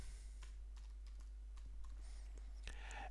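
Quick keystrokes on a computer keyboard type a short search word, a handful of light clicks in an uneven burst over steady background hiss, with no talking.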